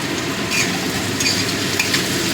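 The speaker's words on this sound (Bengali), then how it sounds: "মিশিয়ে দিচ্ছি। পেঁয়াজটা তাড়াতাড়ি নরম হয়ে যাবে।" Salted onions sizzle steadily in a frying pan while a spoon stirs and scrapes through them, a close, continuous hiss with light clinks and no voices.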